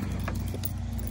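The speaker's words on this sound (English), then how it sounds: "Excuse the noise of the lorry." Steady low engine hum of a horse lorry idling while a horse is readied for a British Dressage show on a warm day, with a brief metallic jangle near the start over the constant drone.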